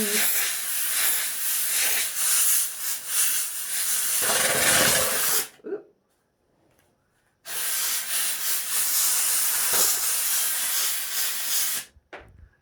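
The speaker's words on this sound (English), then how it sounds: "more steam required" A steamer blasts a continuous loud hiss while a felt hat is blocked into a 1940s-style percher shape on a basic hat block. The hiss cuts off for about two seconds, then resumes and stops again near the end.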